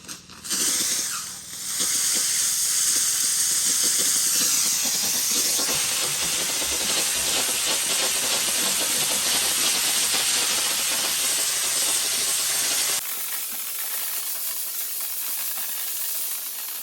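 A household steam cleaner releases a loud, continuous hiss of steam that runs steadily for about eleven seconds, then cuts to a quieter, thinner hiss near the end.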